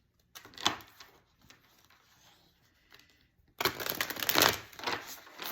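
Tarot cards riffle with a crisp, papery burr in two bursts: a short one early, then a longer, louder flurry near the end.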